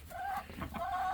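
Farm chickens clucking in a coop on a wet snowy day, a few soft, close clucks coming in short bursts.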